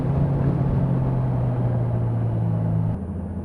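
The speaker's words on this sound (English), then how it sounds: "Pop it in the third gear and let's just cruise." 2015 Kawasaki Ninja 1000 cruising in third gear, a steady low engine drone under heavy wind rush that drops off sharply near the end.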